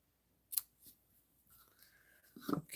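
Scissors snip through mesh ribbon in a quiet room, a couple of sharp close cuts with soft rustling of the ribbon between them.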